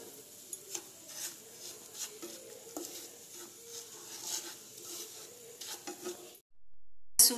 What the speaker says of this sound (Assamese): এতিয়া ইয়াতে চুজিকেইটা অকমান ভাজি লৈছোঁ।